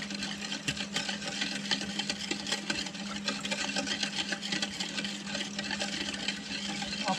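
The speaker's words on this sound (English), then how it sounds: "I'll keep stirring this," A spoon stirs sugar into pickle brine with continuous rapid scraping and clinking against the container, a steady close rhythm lasting the whole stretch, with no talk.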